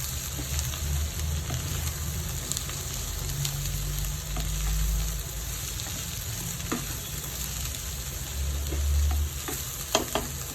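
Chopped chikkurmanis beans frying in a pan for a Kerala thoran, with a steady oily sizzle and intermittent scraping stirs, close up and alone with no voices.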